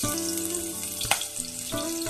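Chopped onions hit hot oil with green chilli and black cumin in a pan, giving a steady crackling sizzle over a backdrop of sustained musical tones, with a brief louder burst partway through.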